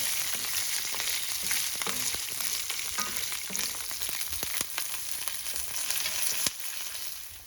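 Green and dried chillies frying in a pan, a steady moderate sizzle and crackle with scattered pops and light clicks of a stirring spoon, no voices.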